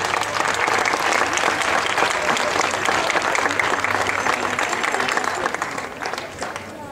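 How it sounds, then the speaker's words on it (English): Sustained, dense applause from the crowd at a South African outdoor show-jumping grand prix for the winning rider, loud and steady throughout before easing a little near the end. "One more time, a round of applause for Samantha McIntosh."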